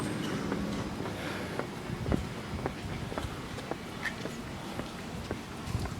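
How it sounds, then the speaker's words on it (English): Heavy wind buffets the microphone in a constant low rumble outdoors in Tokiwa Daira, Japan, with faint scattered knocks and street sounds underneath. "sorry about the wind"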